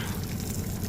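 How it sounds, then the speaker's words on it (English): Alligator and fish pieces fry in a skillet during Cajun cooking in a truck, giving a steady, close, continuous sizzle with no break. "frying up in that skillet"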